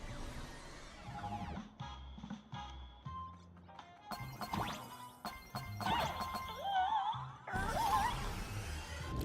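Repeated crashes and thwacks of cars being struck in the video game Honkai: Star Rail, loud and busy, mixed with game effects and whooshing sounds.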